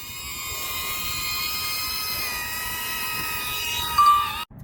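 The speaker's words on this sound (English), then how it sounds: "one of the reasons that you heard the propeller when I was recording right now is because it was recording through my phone" Propellers of a DJI Neo drone whirring close to a phone recording it, a steady high-pitched buzzing whine with stable tones that swells briefly near the end before cutting out abruptly.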